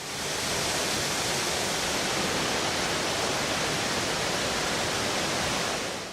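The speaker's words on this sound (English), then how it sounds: "The gentle rush of the waterfall is a spectacular sight to behold." Waterfall at the Ikogosi warm springs rushing steadily, a dense, even roar of falling water holding constant for the whole stretch with no voices.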